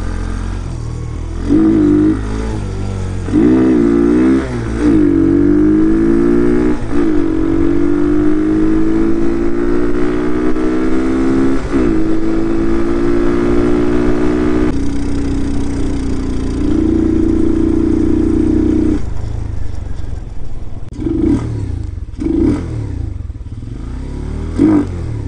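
Hellcat Raptor 125cc motorcycle engine fitted with an air pod filter, loud and close, idling with rough blips and revs that rise and fall across the run, an uneven mechanical clatter throughout and no talking.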